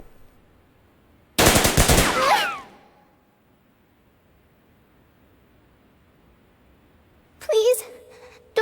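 Two bursts of rapid machine-gun fire ring out inside a building, a loud close volley fading into an echoing tail, then a shorter burst several seconds later with silence between.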